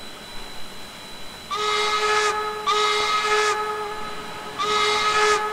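A Norfolk & Western 4-8-0 steam locomotive in Trainz 2019 sounds its whistle in three steady chord blasts, the first two of about a second each and the last a little shorter, loud and clear over a low hum.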